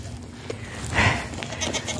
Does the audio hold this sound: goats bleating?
yes